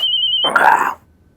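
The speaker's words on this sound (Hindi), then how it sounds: "अरे ये फोन आ गया।" A short electronic telephone ring trills briefly, then cuts off into a muffled clatter before quiet.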